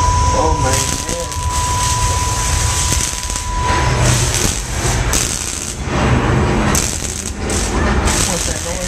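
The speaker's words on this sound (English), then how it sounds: "What's that noise? It's the subway car!" A simulated subway car crash on the Universal Studios Earthquake ride, a loud, sustained rumbling roar with clanking metallic crashes and bursts of debris, with people shouting over it.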